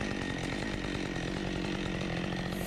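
A chainsaw cuts through a tangled, hung-up tree during difficult tree removal, running at a loud, steady, continuous roar close by with no pauses.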